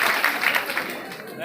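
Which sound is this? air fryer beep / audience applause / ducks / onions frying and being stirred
audience applause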